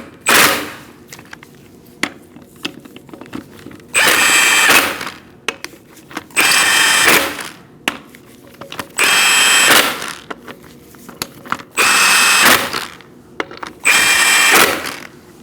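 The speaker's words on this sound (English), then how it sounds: "You're going to tighten your lug nuts in a crisscross manner using a 19 millimeter socket." A power tool with a 19 mm socket tightens lug nuts on the front wheel of a 2004–2012 Chevrolet Colorado. Several loud whirring bursts of about a second each are separated by pauses and small clicks and clanks.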